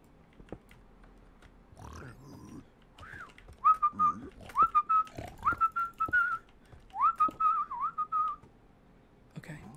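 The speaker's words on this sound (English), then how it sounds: "Okay, sorry, I started whistling out of fear" A person whistles a short, wavering tune of rising and sustained notes close to the microphone, with soft clicks and brief breaths between phrases.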